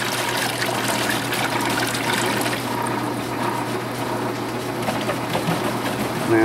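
Water flowing through a homemade TIG torch cooler makes a steady, loud gurgling and trickling rush over a constant low pump hum, with no voices.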